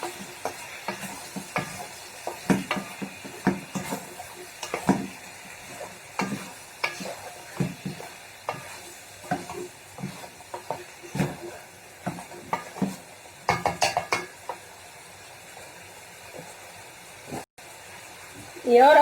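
Food seasoned with oregano frying in a pan, heard as a bright sizzle broken by frequent quick scraping and tapping strokes of a utensil, with a voice talking at moments.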